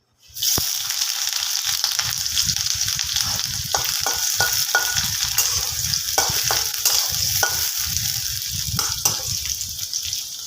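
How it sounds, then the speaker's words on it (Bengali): Chopped onion sizzles in hot oil for a vegetarian lau ghonto bottle gourd dish, a continuous bright frying hiss with intermittent scrapes and clinks of stirring, close and steady. "পেঁয়াজটা ভাজা হবে"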